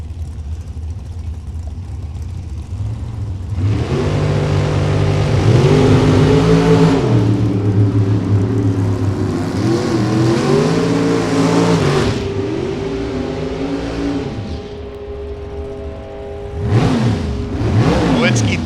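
At a Topeka drag strip, an Oldsmobile and another drag car launch and scream down the track. After a quiet start, loud engines rise in pitch through gear changes, fade, then a brief second roar follows.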